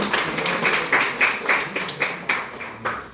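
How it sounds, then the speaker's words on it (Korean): Applause from a lecture audience in an information-security mentoring session, a steady patter of hand claps with brief louder bursts, moderately close and with no voices over it. "선생님 좀 박수 한번 쳐주세요"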